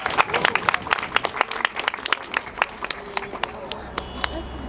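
Scattered, uneven clapping from a small outdoor crowd at the opening of a Harlem mural honoring Yuri Kochiyama and Malcolm X, sharp individual claps mixed with background voices and street noise.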